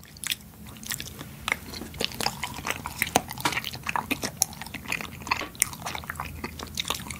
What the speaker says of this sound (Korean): 얼그레이 맛에 타피오카 펄을 같이 먹자